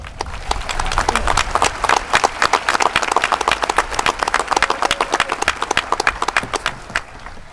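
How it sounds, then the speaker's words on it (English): A crowd at a high school graduation ceremony applauds steadily, with dense, continuous clapping filling the whole stretch and no voices rising above it. "So please, a round of applause for all of them."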